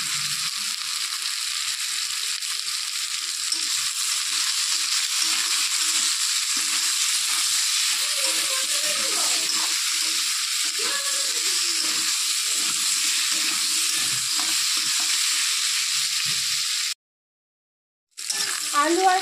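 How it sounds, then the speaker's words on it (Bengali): Bitter gourd (kakrol) and potato pieces frying in oil with a little turmeric and salt give a steady, close hiss of sizzling for most of the clip, with faint voice-like sounds underneath and a brief silent gap near the end. "আলু আর কাঁকরোলটা একটু লাল করে ভেজে নেব"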